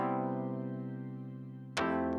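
A sustained "dripping keys" synthesizer preset chord rings out with a gentle pulsing shimmer, then a sharp new attack strikes near the end.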